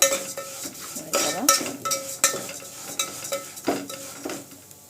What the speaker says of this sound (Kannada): ಇನ್ನೂ ಸ್ವಲ್ಪ ಹುರ್ಕೊಳ್ಳೋಣ ಶಾವಿಗೆನ